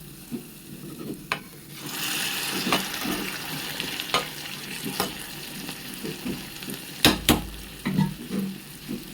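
Spices for a sambar tempering sizzle in hot oil, a close, continuous frying hiss broken by scrapes and clinks of stirring and a couple of sharper knocks near the end, with no voices.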